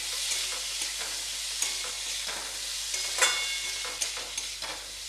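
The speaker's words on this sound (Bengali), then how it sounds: "হাফ চামচ লঙ্কা বাটা দিয়ে একটু কষিয়ে নেব, ভালো করে কষিয়ে নেব" Chili paste fries and gets stirred in a hot pan for a spring onion curry. A steady, bright sizzle runs throughout, with occasional scraping knocks from the spatula and no talking.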